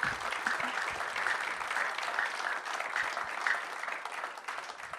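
An audience at a talk in Chambéry, France applauds steadily and fairly loudly for several seconds, the clapping dense and continuous throughout.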